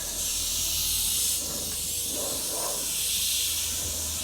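An airbrush sprays paint in a steady, smooth hiss that holds continuously throughout, fairly close and alone with no talk.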